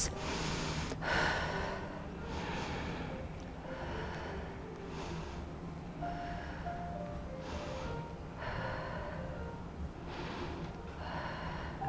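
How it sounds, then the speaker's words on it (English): Slow Ujjayi yoga breaths, each a steady hissing inhale or exhale through a narrowed throat. They come in a regular rhythm, close and fairly quiet, over a faint background hum. "7 Ujjayi breaths"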